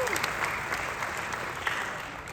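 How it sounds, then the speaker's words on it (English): An audience of parents at a Collier County, Florida middle school honors orchestra concert gives a warm round of applause. Many hands clap in a steady, moderately distant wash that fills a large hall, with a few faint voices in the background. "Let's give a warm round of applause out of appreciation."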